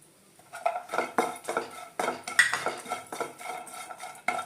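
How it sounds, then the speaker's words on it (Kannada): Grated coconut frying in a little oil in a pan for temple-style puliyogare, heard as busy metal scraping and clinking of a spoon against the pan with a faint sizzle underneath. "ಮತ್ತೆ ಒಂದು ಸ್ವಲ್ಪ ಆಯಿಲನ್ನು ಹಾಕಿ ಕೊಬ್ಬರಿನ ಕೂಡ ಫ್ರೈ ಮಾಡಿಕೊಳ್ಳೋಣ"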